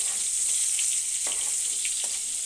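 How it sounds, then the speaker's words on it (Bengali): Cauliflower fries in a pan with a steady, close hiss of hot oil, broken by a couple of brief spatters or stirring sounds. "দেখো আমার ফুলকপিটা ভাজা হয়ে গেছে।"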